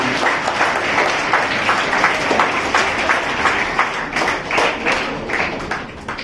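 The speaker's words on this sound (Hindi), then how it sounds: "ताली बजाएं।" Children in a school assembly clap in applause, a loud, dense burst of many small hands that holds steady and then tapers slightly toward the end.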